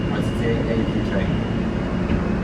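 Steady low rumble and rattle of a New York subway R160 train running on the Q line, heard from inside the car with people talking over the continuous rolling noise.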